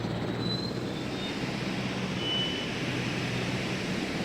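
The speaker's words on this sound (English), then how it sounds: "I wish I could get this whole helicopter into perspective here." A helicopter in the park-building game Jurassic World Evolution gives off a steady, droning rotor and engine hum that stays constant and fairly loud throughout, with no voices.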